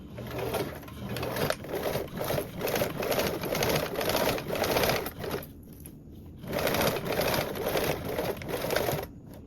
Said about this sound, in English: then top stitch the top edge only with a 1/8 seam allowance